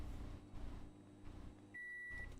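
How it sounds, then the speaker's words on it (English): A microwave oven hums while heating a pumpkin pie in the food-truck cooking game Grub Truck, then a sustained electronic beep sounds near the end, quiet, with no voices. "Grab the pumpkin pie. Put it in the microwave."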